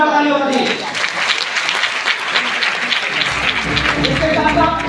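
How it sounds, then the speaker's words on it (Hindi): A seminar audience in Lucknow claps loudly and continuously for a guest, the dense applause running throughout while a voice speaks over it. "हमारे महागुरु डॉक्टर संजीव कुमार सर के लिए जोरदार ताली हो रही है।"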